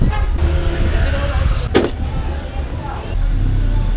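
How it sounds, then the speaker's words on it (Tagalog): A Nissan Sentra B14 idles after an oil change, its engine giving a low steady hum while someone talks over it, with a brief sharp clank partway through. "Paandarin ko na ng 5 minutes tong sasakyan"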